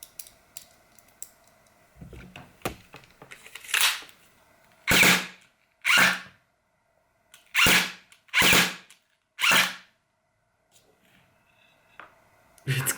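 Airsoft electric pistol firing heavy 0.46 gram BBs: about six sharp, loud bursts, some closely paired, spaced over several seconds, with small clicks and handling noise between and faint mechanism sounds before and after.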